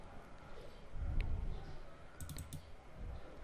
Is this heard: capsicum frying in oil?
no